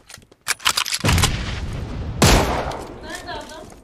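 Gunfire crackles in an online shooter game, a quick rattle of shots followed by a heavier blast. Players talk over the action.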